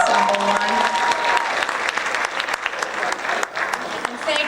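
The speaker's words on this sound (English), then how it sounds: "another round of applause to Jazz Ensemble 1" A school jazz concert audience claps for Jazz Ensemble 1, loud dense applause filling the room, with some cheering and voices mixed in and the clapping thinning slightly toward the end.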